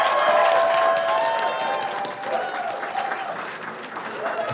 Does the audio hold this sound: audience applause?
yes